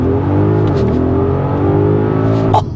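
Audi SQ7 SUV with 507 bhp launching hard from a standstill, loud and close: a sustained engine roar that climbs steadily in pitch, with a brief sharp shift-like break near the end.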